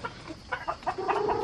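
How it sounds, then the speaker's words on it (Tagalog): Chickens cluck nearby outdoors in a short series of quick, choppy bursts, followed by a longer, drawn-out hen call at moderate loudness. "Huhulihin niya yung mga manok kabsat."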